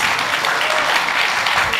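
Audience applause at a space summit talk, a steady dense wash of many hands clapping throughout, loud and close, with no break.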